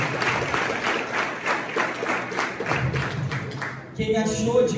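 Church congregation giving a round of applause during a youth service, with brisk, rhythmic clapping for about four seconds before it cuts to a different, tonal sound at the end.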